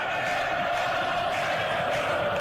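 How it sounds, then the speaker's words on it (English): A packed stadium crowd at a football match roars in a steady, dense wash of voices, loud and continuous with no breaks. "The stadium is full of noise and energy."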